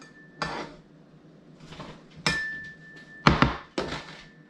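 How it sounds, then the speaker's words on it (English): Half a tomato diced with a knife, heard as a few sharp chopping knocks on a board with clinks between them, close and fairly quiet, with no voices. "half a tomato diced up"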